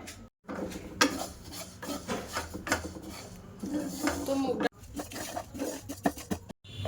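Mung dal dry-roasts in a pan while a spoon stirs it, giving repeated scraping and rattling of grains against metal with short clinks and brief pauses between strokes.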